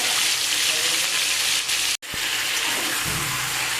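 Washed, unmarinated chicken pieces frying in a pan, giving a loud, steady broadband sizzle that cuts out for a split second and then resumes.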